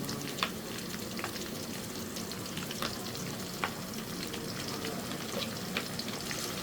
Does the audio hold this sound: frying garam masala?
yes